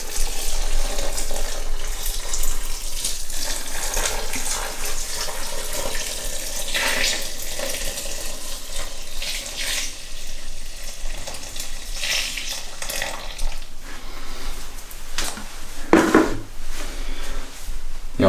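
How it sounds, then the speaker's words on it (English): Boiling water pours and trickles steadily through a bag of brewing grain for a long stretch, a continuous close splashing with small gurgles and a few clunks near the end. "And this is that boiling water. And I'm just going to pour it through."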